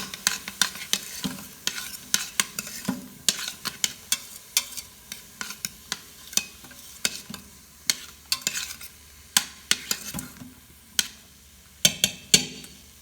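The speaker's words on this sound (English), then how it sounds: "gonna add some minced garlic" Minced garlic sizzles in a hot pan while a utensil stirs it, giving steady frying hiss broken by sharp, irregular scraping clicks against the pan.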